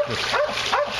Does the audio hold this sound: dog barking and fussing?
yes